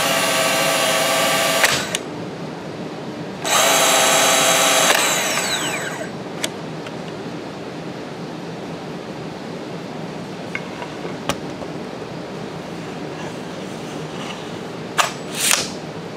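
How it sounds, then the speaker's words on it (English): A cordless nailer cycles with two loud sustained mechanical whirring bursts, then hangs without resetting, leaving quiet room tone broken by a few faint clicks and taps. "recently it started hanging up after the first shot, failing to reset for the next one"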